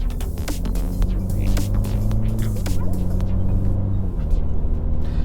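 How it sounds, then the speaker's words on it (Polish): A BMW 3 Series G20 engine hums low and steady from inside the cabin as the car accelerates, its drone shifting pitch slightly through a gear change, with faint clicks and road noise and no talk. "Wciskam gaz, samochód jedzie, ewentualnie jest jeszcze redukcja."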